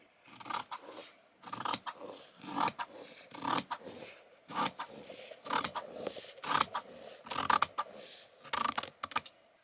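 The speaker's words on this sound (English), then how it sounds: "I'm gonna go and cut things out" Scissors cut out fabric pieces in repeated short bursts of crisp snipping and shearing, each separated by brief pauses, close and quiet with no speech.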